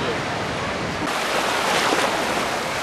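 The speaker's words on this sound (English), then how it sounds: "beautiful ocean" Ocean surf on a Hawaii beach, a steady broadband wash with a swell of breaking waves after the first second, with wind buffeting the microphone throughout.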